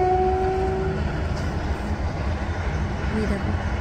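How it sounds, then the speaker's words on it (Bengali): A toy train running past a road on a car journey from Kolkata to Puri, a steady rumble with a brief horn-like tone near the start, heard under road and vehicle noise. "দেখো ট্রেন যাচ্ছে"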